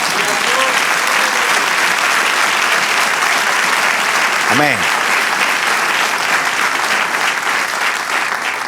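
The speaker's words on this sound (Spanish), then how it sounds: "Denle un aplauso al Señor." Congregation applause fills a church service, a sustained dense roar of clapping at steady loudness throughout, with a brief spoken exclamation over it midway.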